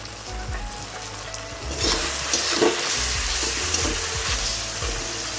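Spices, beaten yogurt and fried onions sizzling and frying steadily in a pan for prawn biryani while being stirred, a continuous close hiss with scraping strokes.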